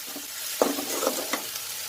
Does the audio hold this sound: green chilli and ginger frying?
yes